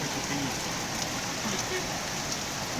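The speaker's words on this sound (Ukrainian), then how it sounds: "Оце то да, оце то дощара." Steady heavy rain pours down onto surfaces nearby, a dense continuous hiss with scattered drops, faint and unbroken throughout.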